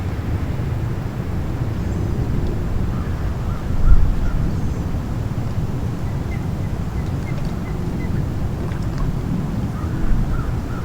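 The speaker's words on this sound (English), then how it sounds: "You can hear the birds and the ducks. You can hear just kind of the ambient wind and things like that." Steady outdoor ambience beside a lakeside dock, with constant wind and water noise, scattered faint bird calls and a few duck or goose honks, all fairly distant and continuous throughout.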